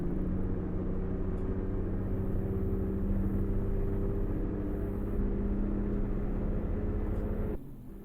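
A 2012 Ford F350 ambulance cruises at speed in a Roblox roleplay, its steady engine hum and road rumble droning evenly for several seconds before dipping slightly at the end.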